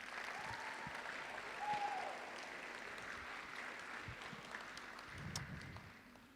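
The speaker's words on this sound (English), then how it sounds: "can everyone give the seniors a round of applause, please?" Crowd applause for graduating seniors at a Native American eagle feather graduation celebration, a broad, fairly distant wash of clapping sustained throughout with a few louder swells and occasional cheers.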